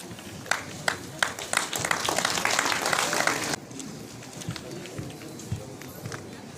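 Audience applause at an award ceremony: a crowd claps in a dense burst for a few seconds, then it cuts to scattered claps and room noise as a voice speaks.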